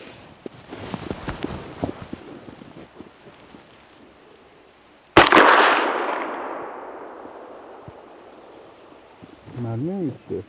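A single loud gunshot is fired into the air outdoors at a snow camp, a sharp crack followed by a long echoing decay, preceded by rustling and clicks, with a voice speaking afterward.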